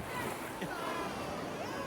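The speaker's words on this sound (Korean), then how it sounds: "파도소리 좋다" Ocean waves washing onto the sandy shore at Hyeopjae beach on Jeju, a continuous close surf roar mixed with wind buffeting the microphone, with voices faintly present.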